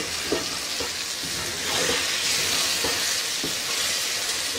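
Eggplant (baingan) cooked with masala sizzles and fries loudly in a pan, with occasional stirring scrapes breaking through the steady hiss.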